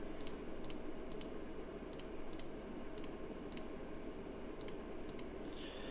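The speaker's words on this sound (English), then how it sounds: "I'm doing this by clicking on a file and then pressing the Control key on my keyboard for multi-file selection" A computer mouse and keyboard being clicked and pressed while selecting files: about a dozen crisp, faint clicks in an irregular rhythm, some in quick pairs, over a steady low room hum with no talking.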